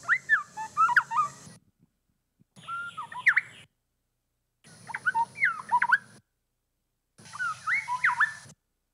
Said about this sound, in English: So this is a black-bellied wren.